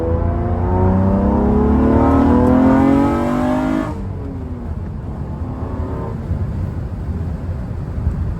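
A 9th gen Honda Accord engine fitted with BC cams runs nearby with a loud, rough idle hum and a rising rev that drops back to a lower steady drone.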